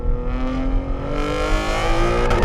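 A 1000hp BMW G80 M3 accelerates hard on a test track, its engine note climbing steadily in pitch, loud and close, with no talking.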